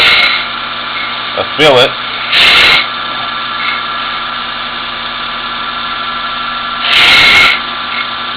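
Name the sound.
diamond angle radius dresser cutting a grinding wheel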